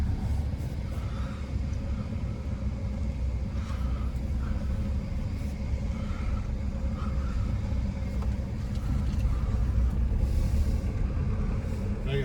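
Car driving down the road after a coolant repair: steady low road and engine rumble from inside the cabin, continuous with little change and no talk.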